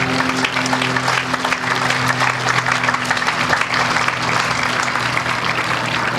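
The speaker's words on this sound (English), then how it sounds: "give yourselves a round of applause" Crowd applause at a Relay for Life charity event in Stillwater, Minnesota: continuous dense clapping, loud and sustained throughout, with a faint steady hum beneath it.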